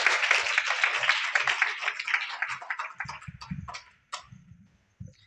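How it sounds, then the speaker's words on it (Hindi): Audience at a school motivational seminar applauds to welcome a speaker, dense clapping that thins out into a few scattered claps, with some faint voices. "कृपया जोरदार तालियों से इनका स्वागत करें"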